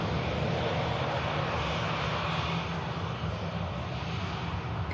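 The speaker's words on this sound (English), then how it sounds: "We have a Ryanair Max 200 from Mercia inbound. Golf Foxtrot about to touch down." A Ryanair Boeing 737 Max 200 airliner comes in to land at Manchester Airport, its engines giving a steady, loud broadband roar that holds at an even level throughout, with no voices.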